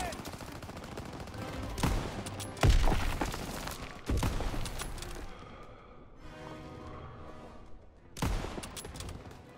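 Gunfire in the Call of Duty WW2 video game, several loud bursts of shots and rapid automatic fire with sharp impacts, spaced across the scene with quieter gaps of battle noise between them.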